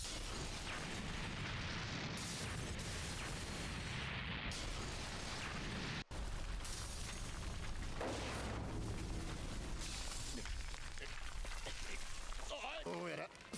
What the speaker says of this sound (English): That's a big explosion, though.